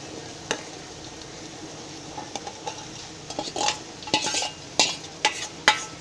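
Sprouted masoor lentil curry stirred in a pan on the stove, with scraping and clinking strokes that grow louder and more frequent toward the end over a faint sizzle.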